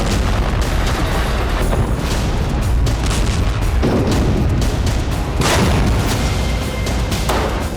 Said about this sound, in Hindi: हमास के लड़ाके टैंक के नजदीक पहुंचकर आईडी हमले कर रहे हैं।